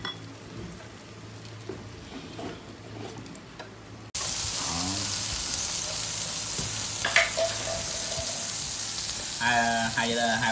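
Pork ribs sizzle on an electric grill in a home kitchen, a steady broadband frying hiss that jumps louder midway, with faint clinks of utensils over it.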